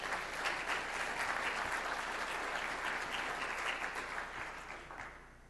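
Audience applause at a foundation conference awards ceremony, a steady, full clapping from a crowd that gradually fades toward the end.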